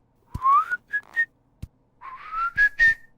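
A cartoon object whistles whenever it gets wet, giving two sets of bright sliding whistles with short chirps between them and a few soft taps. The whistles are clear and close, with no talking.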